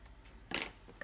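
A single short snip of scissors cutting craft paper, a crisp bright click in the middle of an otherwise quiet moment, with a fainter tick just after.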